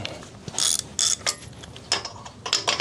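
A ratchet clicks in quick bursts while spark plugs are backed out of a chopper motorcycle engine, with several close, sharp ratcheting runs separated by short pauses.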